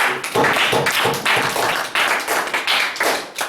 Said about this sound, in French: Acclamation pour le prophète